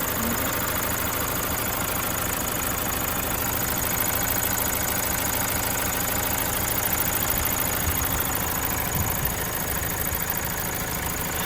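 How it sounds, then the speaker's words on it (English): A used car engine idles steadily with a rough, even mechanical drone and faint ticking, close and continuous, with no voices. "by the sound of the engine, I don't know, doesn't sound like very bad"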